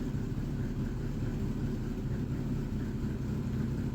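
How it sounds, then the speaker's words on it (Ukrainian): A VAZ 2115 car engine idling roughly on a cold start, with a suspected air leak and possible valve trouble, gives a steady, close, low rumble that continues evenly throughout with no talk. "Чути я чую цей мотор здалеку."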